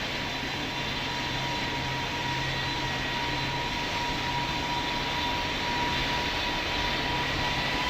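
Airliner jet engines roar steadily in Roblox Pilot Training Flight Simulator during a go-around, a continuous broadband drone with a low rumble that holds at an even level throughout, with no talk.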